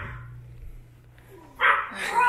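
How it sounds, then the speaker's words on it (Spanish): A guard dog barks at an apartment building, a short burst of loud sharp barks near the end after a quieter stretch of low rumbling background. "Amigos, escuchan, es el perro guardián de Vanessa."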